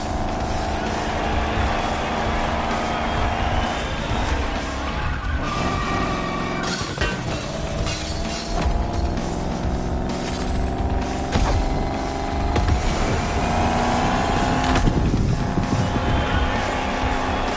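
A Shelby GT500, the first model of its lineup, roars through a lap with a loud, rough engine, rising and falling revs and bursts of tire noise as it slides and skids, with no voices over it.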